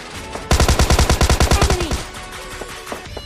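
Rapid automatic gunfire in PUBG Lite, a loud burst of about fifteen evenly spaced shots lasting a second and a half, followed by quieter scattered game sounds.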